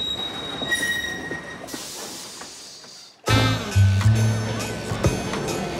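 A cartoon train rumbles and squeals as it arrives at a station, with wheel noise and high metallic screeching, a sudden loud rush near the middle.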